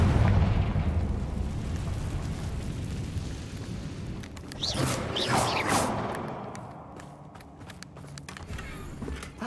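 A Confringo fire spell blasts in Hogwarts Legacy, a roaring explosive burst with crackling debris that rises mid-clip over rumbling game ambience and then fades away.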